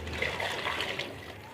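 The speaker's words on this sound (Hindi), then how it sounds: "इसको हम इसमें पानी ऐड करेंगे।" Water poured into a pot of lightly fried rice and peas or potatoes for pulao, a continuous close splashing gush lasting the whole moment.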